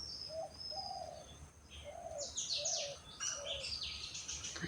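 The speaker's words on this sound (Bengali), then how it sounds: "পাখির কিচির মিচির" Birds calling outdoors on a calm afternoon: soft repeated cooing of a dove with bright chirps and tweets from other birds close by, no talking.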